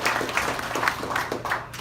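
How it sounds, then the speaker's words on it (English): An audience claps a short round of applause for Mayor Leonard at an Eastern Shore meet-and-greet. The moderate, scattered clapping comes from a small crowd and holds steady throughout. "Can we give him a round of applause?"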